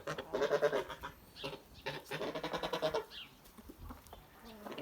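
Young Kholmogory geese, goslings about three months old, honk and cackle in bursts at a farm, fairly close. The calls overlap in two longer runs, then trail off into scattered quieter calls.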